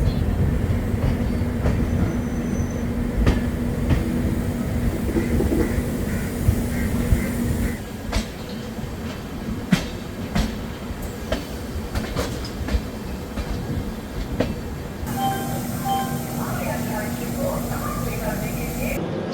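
A Garib Rath Express train rolls steadily on its rails out of Delhi Cantt, with a continuous loud rumble, clattering wheels and occasional sharp clicks, while someone talks over it.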